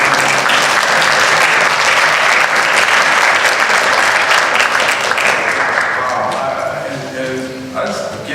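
A community year-end celebration crowd gives loud, sustained applause for teachers and staff, continuous clapping that tapers off toward the close with voices in the background.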